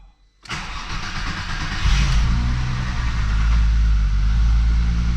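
The 12-valve VR6 engine of a Jetta wagon cranks and catches on the first try with a sudden loud burst, then settles into a smooth, steady, close idle.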